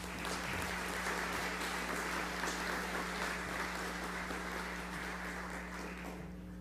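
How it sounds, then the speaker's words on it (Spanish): Applause from an audience welcoming guests, a soft, distant, sustained patter of clapping over a steady low hum, tapering slightly toward the end. "Un caluroso aplauso y sean muy cordialmente bienvenidos"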